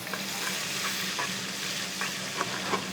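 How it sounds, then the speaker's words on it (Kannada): Two large onions fry in masala for tomato rice, with a steady close sizzle and occasional stirring scrapes, and no talk. "ಈರುಳ್ಳಿ 2 ದೊಡ್ಡ ಈರುಳ್ಳಿ ಹಾಕ್ಕೊಂಡಿದ್ದೀನಿ"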